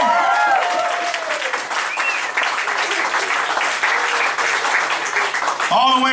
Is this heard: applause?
yes